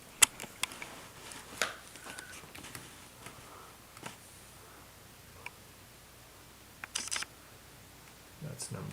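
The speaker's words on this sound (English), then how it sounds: "I'm going to screw it back on." A screwdriver drives screws back into the panel of a Dell Inspiron 15 5577 laptop during a screen replacement, giving scattered small clicks and ticks of metal and plastic at close range, quiet throughout, with a louder rattling burst near the end.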